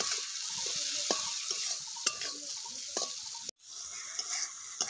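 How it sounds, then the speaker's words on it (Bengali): Spices with turmeric and Kashmiri chili powder sizzle in a pan as a spoon stirs and mixes them, giving scraping clinks at intervals; the sound drops out briefly once and then resumes. "আর দিয়ে দিচ্ছি এখানে কাশ্মীরি লঙ্কার গুঁড়ো। সব কিছু ভালো করে মিক্স করে নিচ্ছি।"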